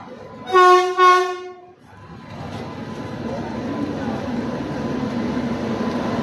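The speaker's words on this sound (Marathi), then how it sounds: "फायनली ट्रेन आली आहे मित्रांनो" Two loud blasts of a train horn ring out near the start, followed by the low, continuous rumble of a special train from Vasai to Kudal rolling into the station close by.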